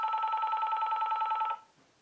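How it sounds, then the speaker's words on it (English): A phone rings with a single steady electronic warble lasting about a second and a half, then cuts off into near silence. "my phone's ringing."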